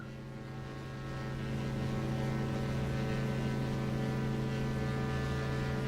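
Steady, loud engine drone of an Aero Bask DA62 twin-engine aircraft in X-Plane 11, a constant low hum with harmonic tones that swells slightly after the first second and then holds level with no talk.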